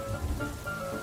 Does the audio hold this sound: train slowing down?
no